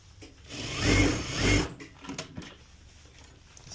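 Straight stitch sewing machine hemming pants, two short bursts of fast, close motor whirring and needle clatter, followed by quieter fabric handling and small knocks.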